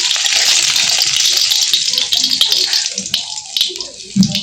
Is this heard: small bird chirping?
no